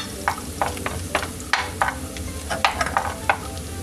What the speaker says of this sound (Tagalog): Okay na itong pork na magigisa na ako.